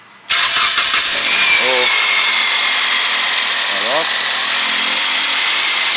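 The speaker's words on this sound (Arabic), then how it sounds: "قوم بعملية التشغيل متاع السيارة." A car engine, just refilled with oil during a home oil change, cranks and catches suddenly, then settles into a loud steady idle while someone speaks briefly over it.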